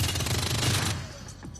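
Gunfire from the video game Shadowrun Dragonfall, a dense rapid burst of loud shots for about a second that then trails off into a fading echo.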